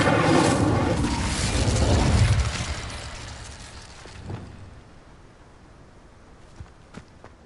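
In Hogwarts Legacy, the Incendio fire spell bursts with a loud roaring whoosh that swells for a couple of seconds, then fades into quieter crackling and scattered small thuds.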